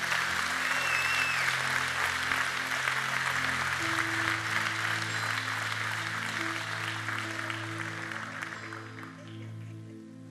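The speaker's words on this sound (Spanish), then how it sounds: "Un aplauso a Dios que es fiel." Loud, sustained applause from a church congregation during a sermon, a dense wash of clapping that holds steady for about nine seconds before thinning out near the end.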